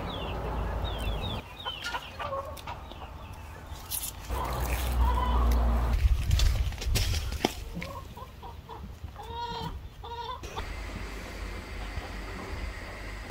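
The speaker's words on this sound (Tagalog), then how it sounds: "Tinutuka siya ng mga manok oh." Free-range native chickens clucking and calling while pecking near a backyard squash and eggplant garden, with a rooster-like call, scattered clucks across the stretch and a louder rustling passage midway.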